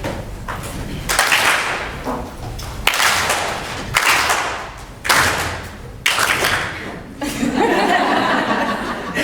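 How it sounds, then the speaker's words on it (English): A group audience at a workshop session gives sharp unison claps in several bursts, each followed by chuckling and laughter, with a final louder wave of mixed noise. "So if I point to you with my left hand, you just give one clap, one solid clap."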